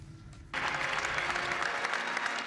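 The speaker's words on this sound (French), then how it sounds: "Applaudi longuement pour sa première visite dans la grande synagogue de Rome." Long applause for Pope Francis during his first visit to the Great Synagogue of Rome in 2016: a quiet hall suddenly erupts into loud, sustained clapping from a large gathering.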